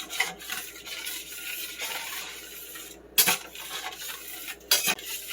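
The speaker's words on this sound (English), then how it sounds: "I'm going to go ahead and just start scraping the fond off the bottom of this pan." A utensil scrapes browned fond off the bottom of a pan while cooking lemon garlic chicken, giving a steady close scratching and stirring under a soft sizzle, with two sharper metallic clinks near the end.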